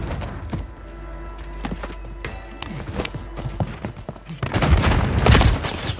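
Gunfire from a Call of Duty: Warzone 3 match: scattered sharp shots and bursts over a low rumble, building into dense, louder firing near the end.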